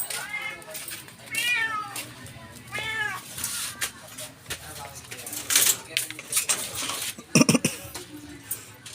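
A cat meows several times in short rising calls, close by, while people talk around it and dishes clatter faintly in the background.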